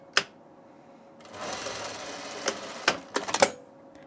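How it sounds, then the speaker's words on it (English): A sewing machine running a short seam on a blouse sleeve band, a close steady mechanical whir of about two seconds, with sharp clicks and taps of handling before and after. "we're gonna sew it right sides together along this short end here"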